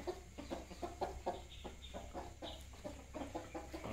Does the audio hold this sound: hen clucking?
yes